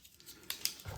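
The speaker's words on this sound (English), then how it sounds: "let's cut off another sleeper" A small plastic sleeper snipped off model railway track, two quick faint cutting clicks close by in a quiet room.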